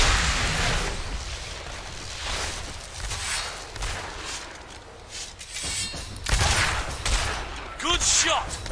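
Gunfire in the fantasy action game Fable III, a steady run of shots and bursts over battle noise, with some game voices in the mix and a louder cluster of reports near the end.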